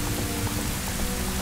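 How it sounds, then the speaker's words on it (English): Steady rain falls throughout a cutscene in The Legend of Zelda: Ocarina of Time, a dense, even hiss of drops heard alone with no voices. "It rained literally for that cutscene."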